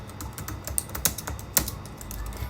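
Fast, steady tapping on a computer keyboard while filling in a Europass CV, with close, crisp keystrokes in an uneven rhythm over a low background hum.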